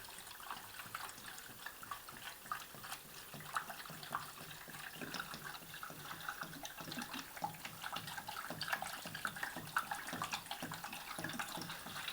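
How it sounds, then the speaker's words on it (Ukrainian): Water pouring steadily into the drum of a Beko washing machine that fails to drain, a continuous splashing gush with no voices. "ось я набрав води, влею цілу літру"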